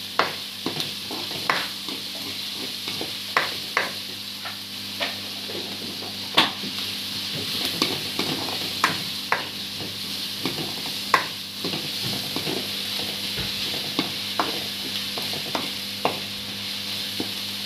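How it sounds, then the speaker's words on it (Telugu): Chopped onion, green chillies and curry leaves frying in a pan, a steady sizzle under repeated close stirring scrapes and clinks of a spoon against the pan. "కట్ చేసుకున్న ఉల్లిపాయ, పచ్చిమిరపకాయ వేసేస్తున్నా. రెండు కరివేపాకు రెబ్బలు వేసానండి, చాలు."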